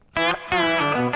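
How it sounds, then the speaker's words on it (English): A sustained pitched instrument in Ableton plays a few bright, harmonically rich notes with reverb and an octaver layered on, each note starting abruptly and ringing into the next, close and fairly loud. "bam, I've got verb and an octaver on at the same time"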